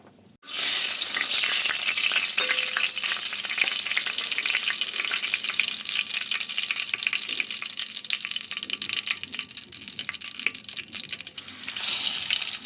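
Egg pieces frying in a pan with turmeric for an egg curry, a loud continuous sizzle and crackle close up, steady throughout with some faint stirring and no talk.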